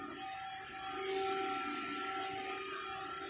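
An automatic rotary drilling machine runs a cycle boring holes in lathe-turned parts on a night-shift shop floor, giving a steady mechanical whir with sustained tonal hums and a slight swell midway, close and continuous with no talk.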